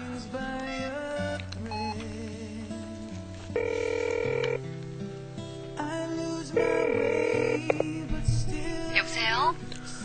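A telephone rings with steady electronic tones and beeps that repeat through the clip, under background music and ambience in a scene set in a bar.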